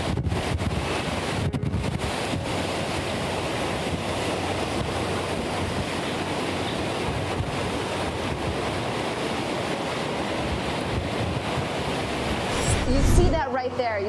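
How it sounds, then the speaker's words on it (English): Hurricane Michael's wind roars through the Florida Panhandle in a loud, continuous buffeting rush with heavy microphone wind noise, swelling into a stronger gust near the end. "and we have a wind gust"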